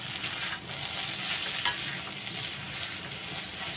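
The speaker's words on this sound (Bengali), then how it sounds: "এখন আমি নাড়াচাড়া করে দেবো।" Potatoes frying in a pan with salt and turmeric are stirred, giving a steady close sizzle with scraping strokes and one sharp clink, and no voices.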